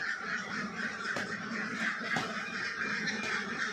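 Ducks kept on a village duck farm quack in a faint, distant chorus of overlapping calls over low background noise.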